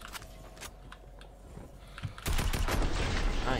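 Gunfire in Fortnite, quiet scattered shots at first and then a louder, denser volley of rapid firing toward the end.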